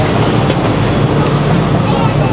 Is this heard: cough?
no